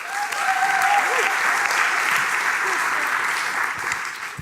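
Warm applause from an audience at a graphic design talk evening, welcoming a designer to the stage: dense, sustained clapping from a sizable crowd, even and full throughout, with a faint voice briefly audible at the start.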